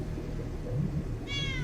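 A single cat meows once near the end, a clear, rising-falling tonal call heard close over a low background murmur.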